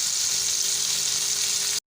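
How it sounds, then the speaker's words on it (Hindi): Onions sizzle steadily in hot oil in a pan, stirred with a spoon as they fry to light brown; the dense, close, continuous crackle has no voices and cuts off abruptly just before the end. "प्याज जो हैं हमारे, इनको हम करेंगे लाइट ब्राउन, और लाइट ब्राउन होने तक हम इनके अंदर जो चम्मच है ऐसा ऐसा जो है चलाते रहेंगे"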